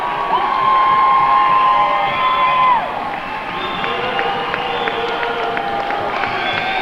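A crowd in a high school gym cheers at a girls' basketball game, with a loud, sustained roar of mixed voices and shouts that dips briefly halfway through and then carries on steadily.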